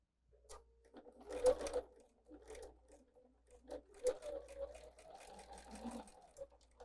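Sewing machine stitching pumpkin quilt block pieces, a quiet close whirring run in a few short bursts with small pauses between them.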